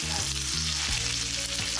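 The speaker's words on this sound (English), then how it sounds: "be patient and let it fry until your cheese has melted and your bread has turned golden brown" A grilled cheese sandwich fries in butter in a pan, giving a steady, close sizzle with a low hum running underneath throughout.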